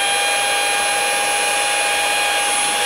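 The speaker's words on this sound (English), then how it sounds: "Now I've just got to pre-drill these second holes" A loud, continuous high-pitched drill whine pre-drilling holes in a caravan for an awning support bracket holds steady throughout, close up, with no pauses.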